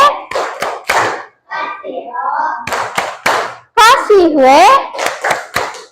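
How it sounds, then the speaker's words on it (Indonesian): Elementary school children's voices chant together, mixed with bursts of rhythmic hand clapping in a classroom, ending in a lively cheer. "Berikan tepuk wow untuk Hasan."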